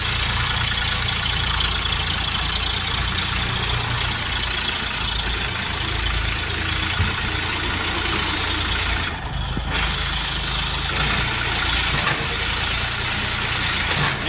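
A red Xingtai 244 tractor engine drones loudly and steadily nearby, a continuous rumbling hum with little change in pitch throughout.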